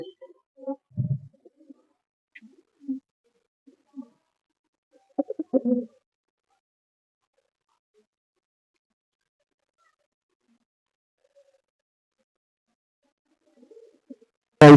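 Blue ice pigeons coo softly in scattered low murmurs, a few brief calls near the start and middle separated by long stretches of silence.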